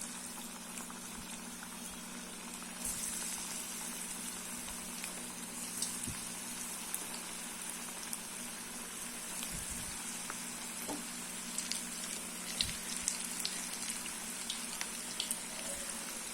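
Onion bonda frying in hot oil in a kadai, a continuous close bubbling crackle with small pops and occasional clinks from a utensil, no talking.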